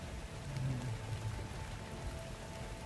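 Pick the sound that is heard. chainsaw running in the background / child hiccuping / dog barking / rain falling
rain falling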